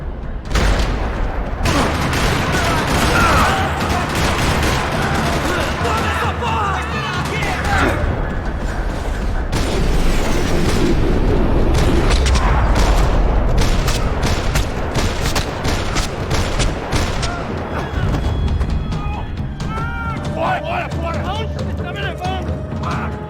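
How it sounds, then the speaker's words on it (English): Bursts of gunfire and heavy impacts in the video game Max Payne 3 rattle throughout, mixed with mechanical clanks and booms in a busy, loud action scene in a parking lot. "Another parking lot rattling with gunfire."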